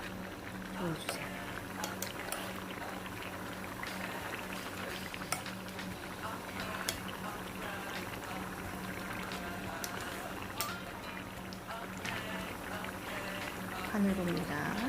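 A healthy homemade jjajang sauce bubbles steadily while hulled perilla seed powder is stirred in, the continuous simmering broken by occasional spoon scrapes, with a voice speaking over it.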